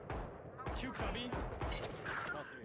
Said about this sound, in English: I was giving him some warning shots.